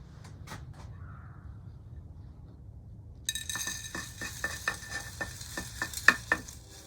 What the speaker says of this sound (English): Let me get some soil in there.